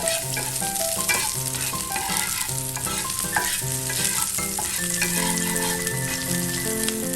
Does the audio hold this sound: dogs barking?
no